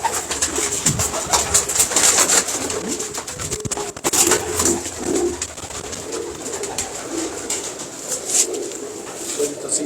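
Teddy pigeons cooing in a loft in Wah Cantt, soft repeated coos mixed with other bird calls running steadily throughout, with voices talking quietly in the background.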